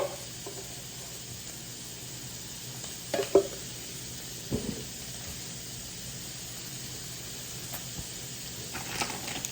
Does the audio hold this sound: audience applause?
no